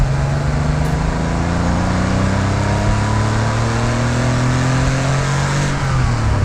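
A classic Porsche engine revs steadily as the car drives, a loud, continuous, uneven mid-pitched drone rising gradually in pitch, heard up close from inside with no talking.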